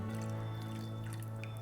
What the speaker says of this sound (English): Next, we're going to add some of the water. And I like to put it around the edge